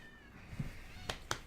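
A cat meows twice in quick succession, short and fairly close, with faint room noise between the calls.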